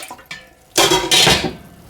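Apple juice poured into a saucepan while making homemade applesauce: a short metallic clatter, then a loud splashing pour of about a second that tapers off.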